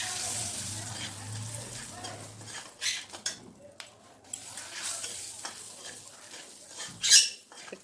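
Kajali fish curry with turmeric, salt and green chili is stirred in a sizzling pan, with soft scrapes and clatter over a steady frying hiss.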